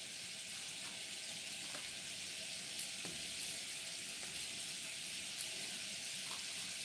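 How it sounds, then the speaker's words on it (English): Steady, close sizzling and crackling of sausage frying in a pan, a continuous bright hiss with occasional pops. "Y'all hear that sausage already sizzling?"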